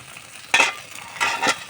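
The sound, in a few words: curry bubbling in pot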